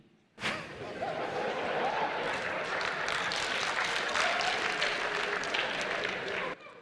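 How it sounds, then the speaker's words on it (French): An audience in a meeting hall breaks into loud, sustained applause that starts abruptly, holds as a dense wash of clapping for about six seconds, then cuts off. "quand il a parlé, beaucoup ont applaudi dans la salle"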